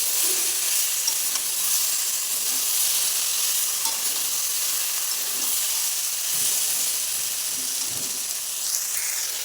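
Eggplant pieces fry and get stirred in an oiled pan, giving a steady, close sizzle with soft scraping stirs throughout.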